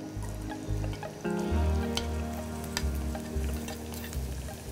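Chopped onion frying in hot oil in a pan, with a steady sizzle, occasional stirring scrapes and a low background hum, no voices.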